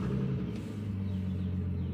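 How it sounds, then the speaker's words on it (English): A Bentley's large engine catches and settles into a deep, steady idle rumble, loud and close, its low drone steady throughout with no voices. "let's start the Bentley and let's see how it starts"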